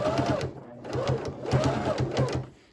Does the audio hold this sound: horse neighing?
no